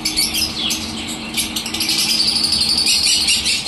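Small conure parrots in a row of park aviary cages near Kolkata call continuously, a dense bright chatter of chirps and squawks, with cocktiels nearby, filling the air without any talk.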